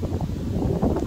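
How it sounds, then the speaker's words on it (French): Strong gusting wind during a supercell thunderstorm in Voiron, Isère, roars and buffets the microphone with a loud, low rumble throughout the brief moment. "Oh là là, le vent."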